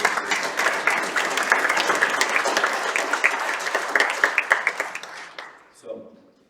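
An audience at an annual student dinner gives a round of clapping for teachers, dense and lively at first, then thinning out and stopping, followed by a brief voice.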